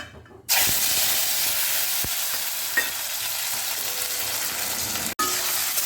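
Tomatoes drop into hot oil in a pan after a dried chilli and bay leaf tempering, bursting into a loud, steady sizzle and hiss that holds close and constant, with a brief pause near the end.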